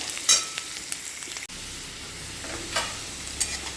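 Onion and potato frying in a pan, a continuous soft sizzle with a few sharper crackles and stirring clinks close by, no voices.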